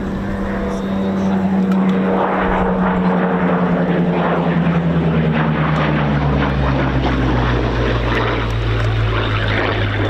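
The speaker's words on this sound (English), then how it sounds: "A lovely display from Ed Yard in the Spitfire Mk.Vc." A Supermarine Spitfire Mk.Vc sweeps past on its final display pass at the East Kirkby airshow, a loud, close piston-engine roar that drops in pitch as it passes and fades away.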